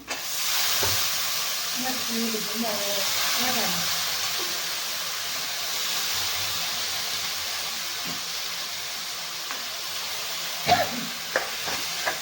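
Pulses frying in oil with spices for a village-style curry. A soft, steady hiss of sizzling runs under a voice talking near the start, and a few stirring clinks come toward the end.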